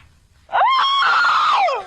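A woman lets out a single loud, sustained scream that rises sharply, holds for over a second, then trails off, standing alone after a quiet start.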